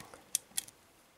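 Pins being picked in an ABUS Extra Class lock, giving two crisp, faint metallic clicks a fraction of a second apart against near silence, followed by a softer tick.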